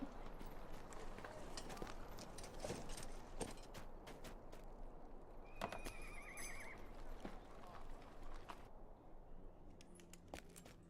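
A horse in the video game Lord of the Rings Online gives a clear whinny amid clip-clopping hooves and scattered game effects, fairly faint overall.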